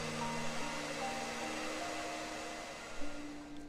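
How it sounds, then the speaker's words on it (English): Vacuum cleaner effect from the video game Undusted, a steady airy whir much like a hairdryer, holding constant through the stretch with a slight shift in pitch near the end. "It almost sounds like the sound for the vacuum. It almost sounds like a hairdryer."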